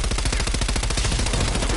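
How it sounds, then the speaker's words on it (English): Rapid automatic tactical rifle fire in a PS5 video game, a loud, close, unbroken stream of evenly spaced shots lasting the whole burst, with no talking. "A tactical rifle may be all I need."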